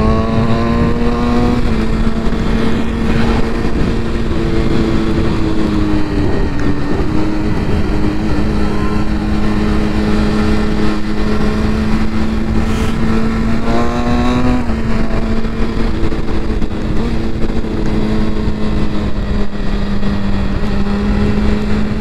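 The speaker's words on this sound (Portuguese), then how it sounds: "que pulo deu a moto agora" A BMW S1000 motorcycle ridden along a potholed road, its engine a loud, steady drone close to the mic, with brief rev shifts as the bike jolts over the holes.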